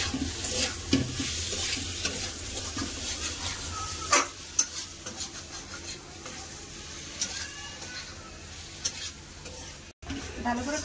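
Potatoes and pointed gourd sizzle and fry with spices in a pan, stirred steadily with a spatula that scrapes and clinks now and then, close and continuous with no talking.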